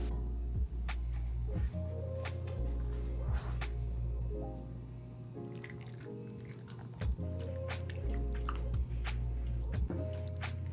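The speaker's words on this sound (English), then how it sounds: "we're gonna pour it on the chicken" Freshly boiled sauce is poured over chicken, heard as soft, scattered drips and wet splashes over a steady low hum, close and fairly quiet.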